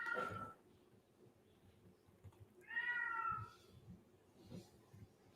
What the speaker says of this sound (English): I don't know if you guys can hear, but my cat is cutting up in the background